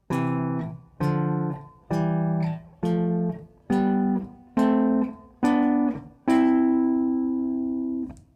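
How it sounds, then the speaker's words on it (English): A clean, sustained melodic line of eight notes played on two electric guitars in two-part harmony, each note ringing then cut off, the final note held longest. "you would end up with a harmonized line that would sound like this if two guitars were playing it"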